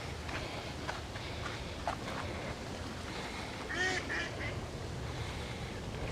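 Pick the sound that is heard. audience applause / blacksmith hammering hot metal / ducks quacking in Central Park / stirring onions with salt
ducks quacking in Central Park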